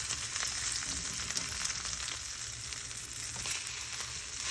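A thick steak for bistecca fiorentina fries in a hot pan, giving a steady dense sizzle with occasional crackles and pops throughout, close up and unbroken, with no voices.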